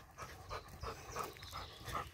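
A Labrador dog pants close by in quick rhythmic breaths, about eight soft huffs in two seconds, faint and alone with no voices.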